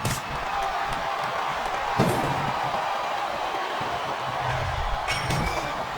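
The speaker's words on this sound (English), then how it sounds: "I think these superstars are getting some feedback from the crowd, JR." A virtual arena crowd in the WWE SmackDown vs. Raw 2007 wrestling game roars as a steady wash of noise, with a few sharp thuds and cheering swells rising over it.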